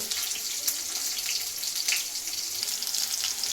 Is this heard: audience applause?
no